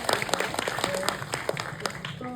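A film festival audience at a Bucheon screening applauding after a premiere, steady, dense clapping throughout with a few voices talking underneath.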